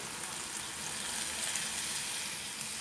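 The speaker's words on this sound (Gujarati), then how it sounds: "ત્રણથી ચાર મિનિટ સુધી સાતરવાની છે ફાસ્ટ ગેસ પર" Broccoli and carrots sautéing in a pan over a high gas flame, giving a steady, even sizzle with no talk.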